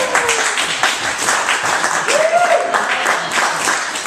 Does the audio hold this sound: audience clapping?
yes